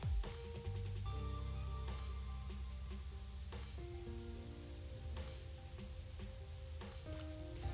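Steady rain falls in the Master Detective Archives: Rain Code video game, a constant wash of patter running under sustained game music with low tones.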